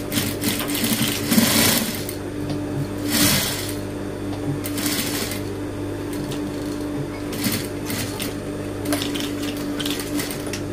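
A sewing machine runs close by in uneven bursts, its whirring motor rising and falling with rapid mechanical clatter and steady hum between runs.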